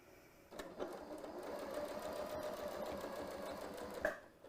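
A sewing machine runs in one continuous, even burst for about three and a half seconds, stitching gathered basting into place on a pattern-cut garment, then stops abruptly with a small clunk.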